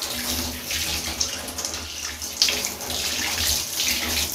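Cold tap water runs steadily onto hair, rinsing out pink L'Oréal Colorista dye, a continuous close splashing hiss with small shifts in the flow and no talk.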